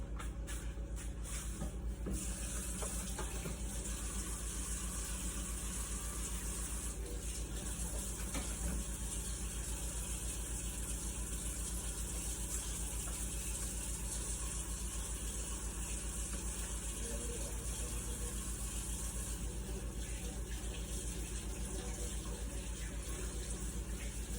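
A kitchen faucet running steadily over food being washed off in a sink, a continuous full hiss of water with slight splashing changes, close and unbroken, no voices.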